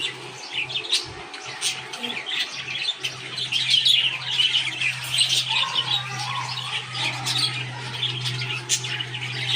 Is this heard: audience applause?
no